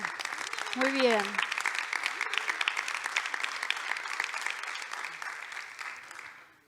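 Audience applause at a gathering of collaborators, a sustained wash of many hands clapping that fades toward the end, with a short spoken voice near the start.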